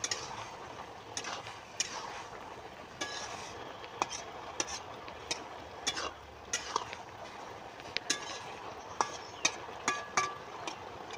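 A fried fish head being turned in a hot pan: scraping utensil strokes and clinks against the pan at an irregular rhythm over a faint sizzle, fairly close, with no talk.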